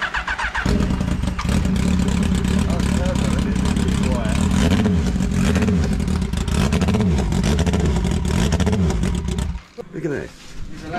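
Austin Ten Special car engine, a rough rat-style build in a home garage, cranking and then starting, running loud and close with repeated revving surges before cutting out near the end; voices talk faintly over it.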